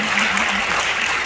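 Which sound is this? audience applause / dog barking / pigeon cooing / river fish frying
audience applause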